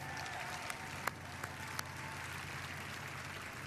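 A press conference crowd at E3 2016 claps for Harvey Smith of Arcane Studios, the Dishonored 2 team, a faint, distant wash of applause with a few sharper claps standing out.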